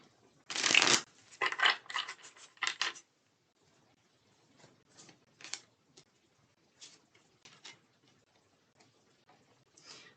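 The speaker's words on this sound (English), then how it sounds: "But I'm shuffling these cards here." Tarot cards shuffled by hand during a live reading, a dense burst of riffling at first, then scattered soft flicks and taps spread across a quiet pause.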